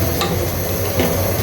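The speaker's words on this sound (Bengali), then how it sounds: "আমি খুব ভালো মতো করে নেড়ে নিচ্ছি।" Tamarind chutney being stirred in a pan over low heat, a soft bubbling sizzle with a couple of brief scraping strokes of the spoon, close and continuous.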